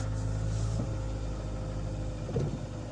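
A 2017 Hyundai Elantra's engine runs steadily in a low, continuous idle-like hum that holds at an even level for the whole stretch, with no voices over it.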